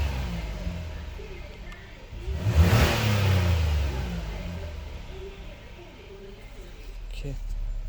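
A 2022 Hyundai Palisade engine idles, then a single snap of the throttle sends it into a quick, rising rev that peaks and settles back to idle. The rev is close and moderately loud, and speech is faintly present.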